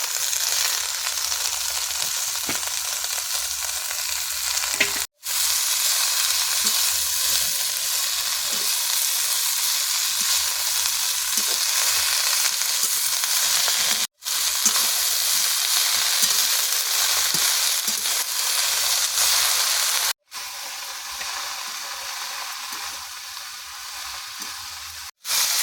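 Red amaranth greens sauté in hot oil in a village kitchen, giving a loud, continuous hissing sizzle with faint stirring, broken by a few sharp cuts where the sound drops out briefly.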